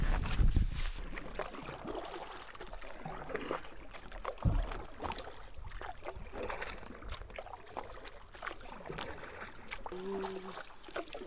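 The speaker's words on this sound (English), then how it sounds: "This is by far the longest lake I've got to paddle today" A canoe is paddled across a long lake in the Boundary Waters in late fall, with soft rhythmic water splashes and paddle knocks. Wind rushes faintly throughout, and a brief thump sounds near the start.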